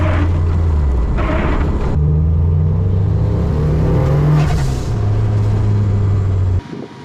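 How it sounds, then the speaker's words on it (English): A road-going rally car drives through surface water in stormy conditions, its engine rumbling and revving loudly up and down through gear changes, close and continuous for several seconds, dropping off abruptly at the end. "The car was performing well despite the stormy conditions."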